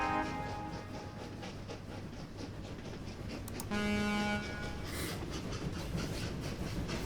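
A train running in the Train Valley railway-building video game, set on a Europe map: a steady rolling rumble with clicking wheel beats, a short horn toot in the middle, and a faint hum underneath.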